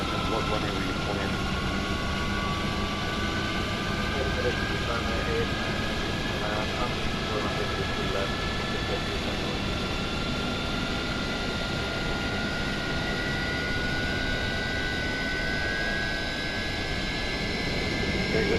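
Jet engines of a PMDG 777-200ER heard from outside the aircraft in a flight simulator game, a steady broadband roar with a whining tone, continuous and fairly loud for the whole stretch, with no talk over it.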